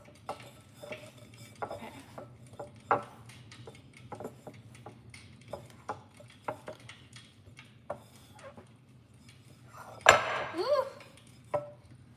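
Cookie dough being stirred in a bowl, with repeated scraping and clinking of a utensil against the bowl in an uneven rhythm and a louder clatter near the end; a voice briefly speaks.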